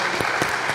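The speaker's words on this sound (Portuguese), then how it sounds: "Uma salva de palmas aos pastores" Brief burst of steady applause from a church audience for its pastors, dense hand clapping from many people at a moderate level.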